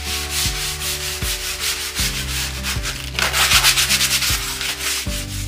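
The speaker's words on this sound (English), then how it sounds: "now we want to sand it" Sandpaper rubs back and forth along a stripped gum tree stick in quick rhythmic strokes, close and clear, with a low tonal hum running underneath.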